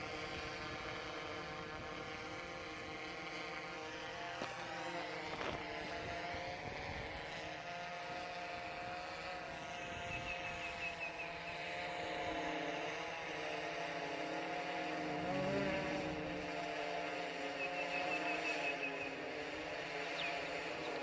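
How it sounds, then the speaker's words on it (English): Steady buzzing whine of an SP3+ quadcopter drone flying and slowly descending on its own, a continuous propeller drone holding at moderate level with no talk over it. "So at any minute now, I would expect the drone to start descending."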